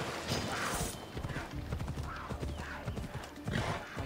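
Horse hooves clip-clop in a steady rhythm in the video game Assassin's Creed Odyssey, with a brief whinny and game ambient noise behind, no clear speech.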